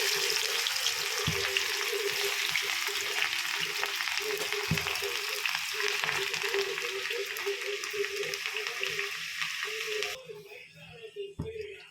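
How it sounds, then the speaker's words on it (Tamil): Potato peels deep-frying in hot oil give a steady bright sizzle and crackle throughout, with a few soft knocks from the pan and a quieter tail at the end. "எண்ணெயில் தான் இப்போ பொரிச்சு எடுக்க போகிறோம்"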